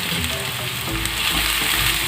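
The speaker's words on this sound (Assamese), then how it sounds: "পিঁয়াজখিনি ভজা হৈ গ'ল।" Sliced onions fry in a pan with ginger and chilli, a dense, steady sizzle with faint stirring, loud and close throughout with no talking.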